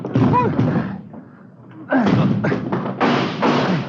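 Men ram a blocked front door in a 1950 radio crime drama, heavy thuds and slams landing in a rough sequence, with urgent voices shouting over the impacts.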